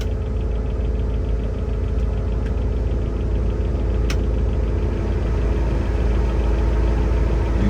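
Heater blower fan of a 1956 Dodge Custom Royal Lancer running steadily with the engine idling, a continuous near whir and hum with a low engine rumble underneath and a couple of faint clicks.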